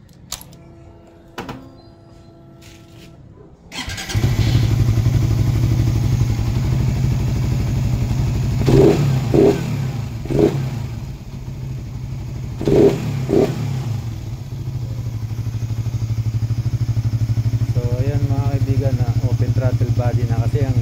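A Suzuki Raider 150 Fi motorcycle engine with a freshly cleaned throttle body and manifold starts after a few clicks, settles into a loud, close idle and gets several sharp throttle blips, while someone talks over it.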